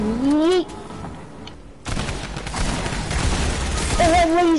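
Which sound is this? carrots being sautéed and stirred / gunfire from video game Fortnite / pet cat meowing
gunfire from video game Fortnite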